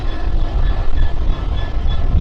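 A freight train rumbles past close by over a railway bridge near Trent Lock, a heavy low droning roar with faint rhythmic clatter from the wheels.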